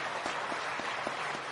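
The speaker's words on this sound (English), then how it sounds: "A big round of applause to" Audience applause after a lecture in a book discussion hall, a dense, steady wash of many hands clapping at an even level for the whole short stretch, with no voices over it.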